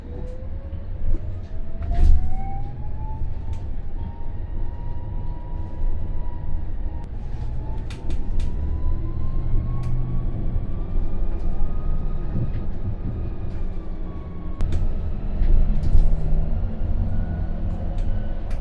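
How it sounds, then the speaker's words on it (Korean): New Hyundai Universe hydrogen express bus driving, an electric motor whine slowly rising and falling over steady road rumble, with occasional rattles and knocks from the cabin. "따끈따끈한 신차 소리 한번 들어보면서"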